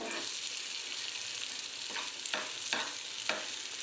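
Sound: mixing rava appe batter

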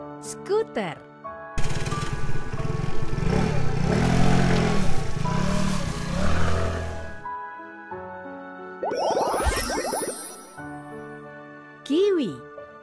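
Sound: scooter engine in a video game

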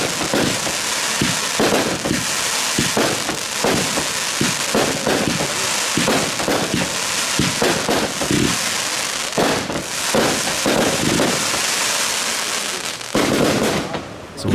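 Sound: firework battery (compound cake) firing

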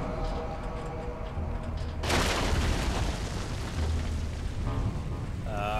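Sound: tank firing or exploding in the video game Fear 2

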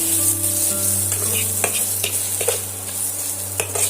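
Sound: egg frying and being stirred with spices in a pan

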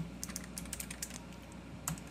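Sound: typing a command on a computer keyboard

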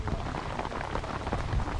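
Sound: rain falling

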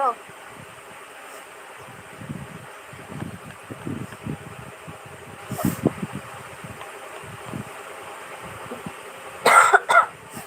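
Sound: heavy coughing

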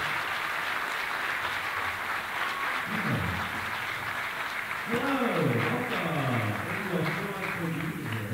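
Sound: audience applause at school winter concert

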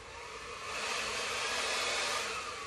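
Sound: hair dryer blowing on poured paint

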